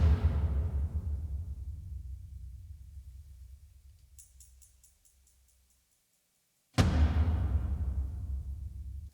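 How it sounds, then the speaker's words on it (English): Epic cinematic toms from a Kontakt sample library hit as two heavy, booming strikes. The first decays slowly over several seconds, then a second loud hit follows after a short silence, deep and resonant with no voices. "And also these epic toms from this contact library."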